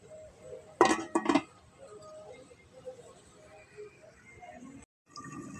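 A lid set down on a pan of bitter gourd (karela) cooking on the stove gives two quick metallic clinks close by, followed by quiet kitchen sounds.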